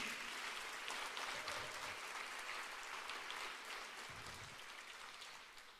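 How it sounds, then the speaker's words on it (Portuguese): A church congregation applauds steadily at a sermon, broad sustained clapping filling the room at an even level and easing slightly toward the end. "Se é para Jesus, você pode aplaudir."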